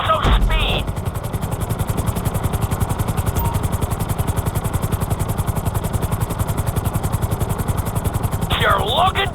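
Helicopter in GTA 5 flight school, a steady rapid rotor chop and engine drone throughout, loud and close, with brief bursts of game radio voice at the start and end.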